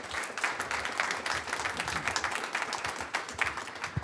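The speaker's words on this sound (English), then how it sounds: "Let's give our panel a great big round of applause" Audience applause for a defense innovation forum panel, a dense steady patter of many hands clapping in a room, moderately loud and continuous throughout with no voices over it.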